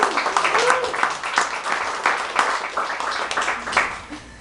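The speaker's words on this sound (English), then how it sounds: "I think Ryan deserves a big round of applause." A conference audience claps in a loose, busy round of applause, individual claps crisp and close, rising and falling over several seconds with no clear voice on top.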